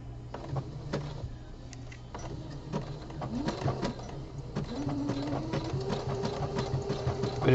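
A home sewing machine stitches the body panel of a pair of boxer briefs, its quiet motor whine rising in pitch as it speeds up, with light mechanical clicks throughout.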